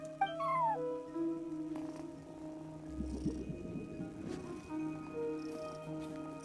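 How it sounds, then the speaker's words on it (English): A cat at a front desk in Genshin Impact gives a short meow near the start, over soft tonal game music, with a few quiet clicks and a burst of rustling later on. "No one except for a cat watching over the front desk."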